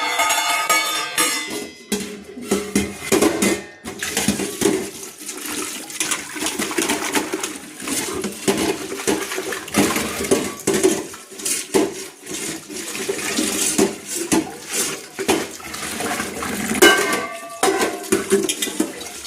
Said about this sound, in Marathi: एकाच वेळेस सगळे डबे घासले आणि ते असे एकाच वेळेस धुतले